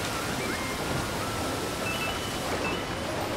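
Rushing waterfall water in the Super Mario Odyssey video game, a steady, dense broadband roar that holds at an even level with no talk over it.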